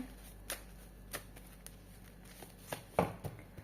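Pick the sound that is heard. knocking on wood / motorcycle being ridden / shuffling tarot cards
shuffling tarot cards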